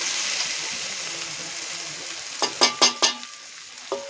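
Ground chili, turmeric, cumin and coriander powders frying in a pan of oil for Bengali murir dal give a steady close sizzle, joined near the end by a few sharp stirring clatters against the pan.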